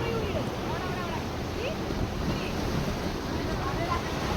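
Sea waves wash continuously onto Kadalundi beach, a broad steady surf roar with wind buffeting the microphone throughout and no clear individual breakers standing out.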